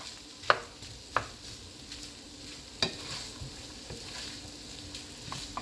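A spoon scrapes and stirs shrimp and chicken fried rice in a pan over low heat, a few distinct clinks and scrapes spaced irregularly over a faint background sizzle, close and quiet with no talking.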